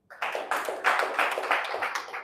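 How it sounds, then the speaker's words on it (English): A crowd claps steadily at a talk on saving and trading in the money market, the applause close and continuous with no speech over it. "Let's clap for her."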